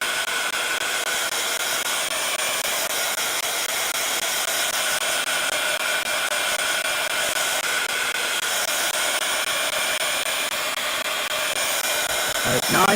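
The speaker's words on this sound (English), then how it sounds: "give that a little blitz with the dryer" A hair dryer blows steadily on a wet craft piece, a loud continuous whoosh that holds for the whole stretch without talk, ending with a brief knock.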